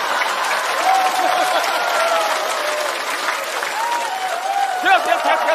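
An audience at a Chinese stand-up comedy show claps in a steady, full round of applause mixed with cheering and music, loud and continuous throughout.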